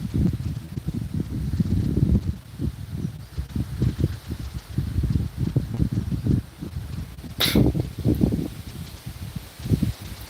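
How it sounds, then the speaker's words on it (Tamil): Cool wind blows outdoors in sunshine, making a continuous low buffeting rumble against the microphone that rises and falls in gusts. A brief sharp crackle cuts through midway. "சும்மா சில்லுன்னு காற்று அடித்து கொண்டு இருக்குது"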